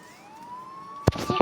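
A police car siren wails steadily in a Spider-Man video game, a clear rising-and-holding tone, followed near the end by a few sharp thuds and bursts of game noise.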